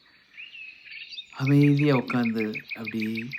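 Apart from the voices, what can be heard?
sparrows chirping by a river in a meadow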